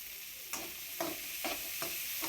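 Paneer pulao frying in a pan as kasuri methi goes in gives a soft, low sizzle punctuated by four quick spoon stirs, fairly quiet and close.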